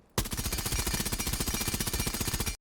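Sustained automatic gunfire from Rainbow Six Siege recoil practice on the 20-meter shooting board, a rapid, even burst of shots lasting over two seconds, loud and continuous, stopping abruptly.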